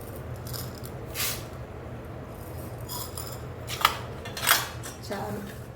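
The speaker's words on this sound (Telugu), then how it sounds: "ఇప్పుడు మినపప్పు వేద్దాం" Urad dal tips into a hot pan of mustard-seed tempering for drumstick pickle, with faint sizzling under bright clinks and scrapes of a utensil against the metal pan, quick and close.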